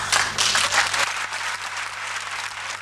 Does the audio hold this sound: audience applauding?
yes